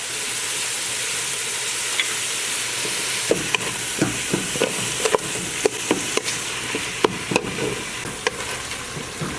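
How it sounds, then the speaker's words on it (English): Meat sizzling in a pan with salt, sugar and black pepper, a loud continuous fry under a run of sharp spatula taps and scrapes. "You want to cook the meat until all the liquid evaporates."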